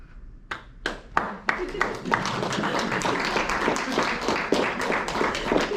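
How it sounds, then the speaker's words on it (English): An audience applauds at the end of a talk on the gig economy, with sparse early claps swelling into steady, moderately loud clapping that continues for several seconds. "Give the man a round of applause."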